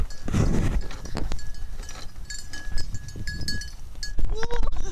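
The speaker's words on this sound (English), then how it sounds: "this goat won't stop following us" A goat bleats briefly near the end amid outdoor noise, with people talking and a faint metallic bell tone in the background.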